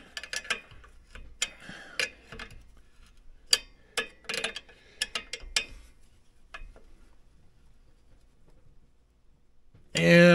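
A small wrench tightens a bolt while mounting an HD carburetor on a vintage single-cylinder Ski Daddler race snowmobile, giving irregular close mechanical ticks and clicks before an abrupt loud burst at the very end.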